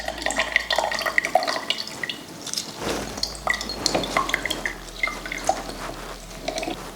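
Rum, lime juice and mint mixture for a mojito being strained, with a steady trickle of pouring liquid and light drips running throughout, close and fairly loud.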